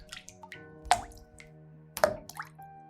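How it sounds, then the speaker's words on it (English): Water drips and plops in a quiet indoor space, two prominent resonant drops about a second apart among softer scattered drips, close and alone. "Throughout the entire house, an inexplicable dripping sound was heard."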